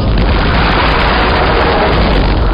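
An artillery shell bursts on a hilltop in Turkish shelling of a group of PKK militants, heard as a loud, dense, sustained blast roar that fills the whole clip.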